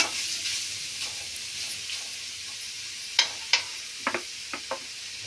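Ingredients for carrot rice fry in a pan with a continuous soft sizzle, broken by several sharp scrapes and taps from a stirring utensil toward the end.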